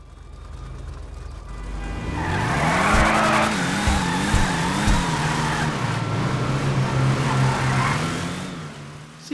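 Karin Hotring Everon NASCAR truck in GTA, a loud close engine rising and falling through gear changes while the tires skid and squeal steadily for several seconds.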